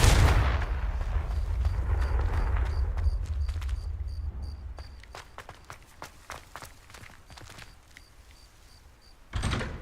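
A Confringo blast spell explodes in Hogwarts Legacy, a loud broadband burst up front decaying into rumble, followed by a string of sharp cracks and impacts and a final blast near the end.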